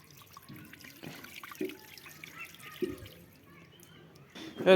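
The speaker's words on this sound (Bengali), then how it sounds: "গাইজ প্রথমে কুলগুলো ধোক" Jujubes (kul) being washed in water, with soft splashes, drips and trickles close by, punctuated by a few louder sloshes and clunks at irregular intervals.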